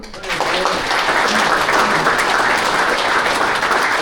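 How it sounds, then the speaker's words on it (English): Loud, dense applause from the audience at North Geelong football and netball club's 150th celebrations, for Joy, the daughter of Brian Mowat, holding steady after a brief spoken lead-in. "We can have a round of applause for Joy."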